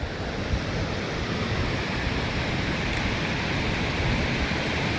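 Floodwater rushes through a river beside a village with a steady, broad roar that holds at an even level throughout.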